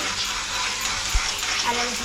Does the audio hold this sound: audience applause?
no